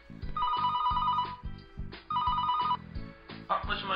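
A telephone rings with an incoming call in a TV-shopping setting, two repeated electronic ring bursts over a busy, rhythmic music bed, fairly loud and close.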